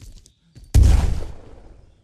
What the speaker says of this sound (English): it threw a grenade even though I was in the menu